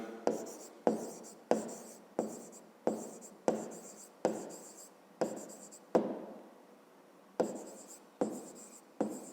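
Pen writing an answer by hand during a fifth-grade maths lesson on rectangular prisms, in a steady run of about a dozen short scratching strokes with small pauses, close and fairly quiet, with no talk.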